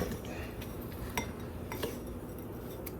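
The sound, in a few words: spoon clinking against dishes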